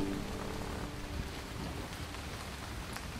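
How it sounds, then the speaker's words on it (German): Rain falls in the video game Starbound, a soft, steady hiss of drops at low volume with no talking, and a faint tonal hum that fades early on. "Ach so, es regnet."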